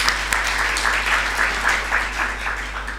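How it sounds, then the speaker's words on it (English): Audience applause at a World AMR Awareness Week 2024 event, a moderate patter of clapping from a hall crowd with a steady low electrical hum underneath. "Please clap for these CASICs"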